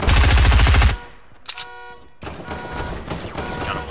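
Gunshots in the video game Fortnite battle royale: a loud rapid burst of fire cuts off abruptly, then a few scattered distant pops and tonal game sounds follow over a busy, lower background.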